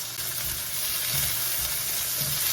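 Onions sautéing in a hot pan with garlic nearby, a steady close sizzle and hiss throughout with faint stirring scrapes, no talk.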